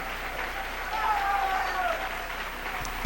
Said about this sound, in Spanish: Dele un aplauso al Rey en esta noche.